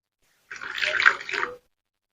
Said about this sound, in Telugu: నీళ్ళు పోసేసుకొని